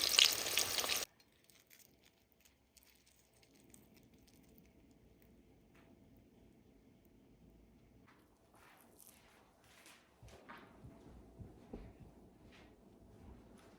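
Arancini rice balls frying in hot grease, a quiet, steady sizzle with soft crackling pops that grows a little busier toward the end, after a brief loud burst at the very start.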